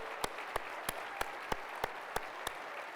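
Audience applause for athletes at the Bowerman awards ceremony, a continuous bed of clapping with one nearby clapper's sharp, evenly spaced claps repeating about three times a second.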